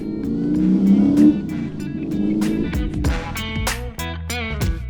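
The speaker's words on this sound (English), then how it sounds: "the engine's a 468 big block Chev with a T56 manual gearbox" A 1970 Chevy Nova with a 468 big block Chevrolet V8 and T56 manual gearbox revs hard up close, rising and falling through several throttle blips with a lumpy, grumbling idle between them.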